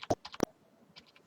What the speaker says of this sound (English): I hit I on my keyboard to make that my in point